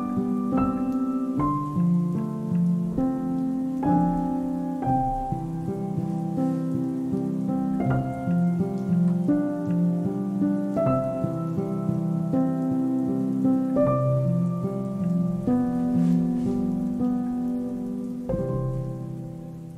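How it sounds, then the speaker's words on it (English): Summer rain patters steadily against a window as a thunderstorm begins, a soft continuous wash of drops under a gentle melody. "hearing that first rumble of thunder right as the rain starts to hit the window"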